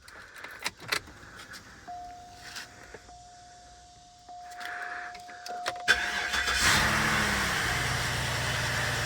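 On a salvage Cadillac Deville, keys jangle and a steady warning tone chimes before the engine cranks and catches. It settles into a loud, even idle, close by and alone.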